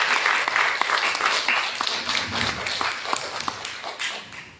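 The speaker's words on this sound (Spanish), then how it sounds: "Un aplauso para Ana." Audience applause at a book fair (FENALEM 2023) for a speaker named Ana, a dense, steady clapping that fills the whole stretch with a few sharper individual claps standing out.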